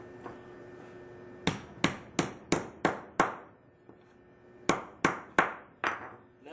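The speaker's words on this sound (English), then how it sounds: "is smash the end of each end down flat." Hammer blows flattening the end of a copper pipe, about a dozen sharp, loud metallic strikes close by, in two quick bursts separated by a short pause.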